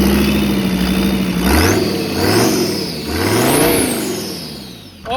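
The 2.5-litre turbo diesel in a 1987 Mercedes-Benz 250T revs repeatedly in swelling bursts with a turbo whistle on top. It is loud and close, with no voices.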